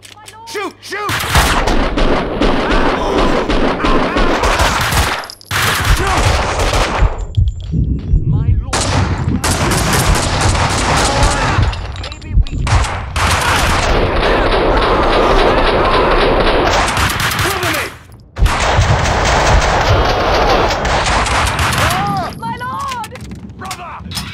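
Rapid bursts of gunfire from the video game Max Payne 2 fill long stretches, loud and dense with booming impacts, broken by brief pauses.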